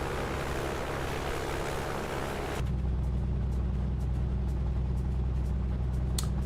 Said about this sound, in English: Okay, so do you hear that engine? I don't like the sound of that engine.